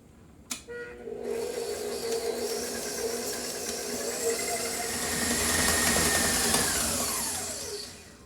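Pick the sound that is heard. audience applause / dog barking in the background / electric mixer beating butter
electric mixer beating butter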